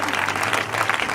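A church congregation applauds for Jesus, with dense, loud clapping from a crowd close by and voices mixed into the applause.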